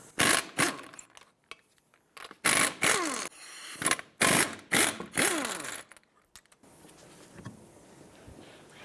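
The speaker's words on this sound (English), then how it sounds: "let's remove the wheel, 21mm socket." A ratchet with a 21mm socket removing the lug nuts from a 1997-2001 Lexus ES300 wheel makes bursts of loud, close ratcheting and metallic rasping separated by short pauses, trailing off into quieter handling noise.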